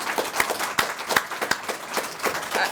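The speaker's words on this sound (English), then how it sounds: "Can you stand up and clap for him, please?" An audience at an inaugural university lecture claps, a fairly dense patter of hands at moderate distance, steady with a few stronger individual claps over about three seconds.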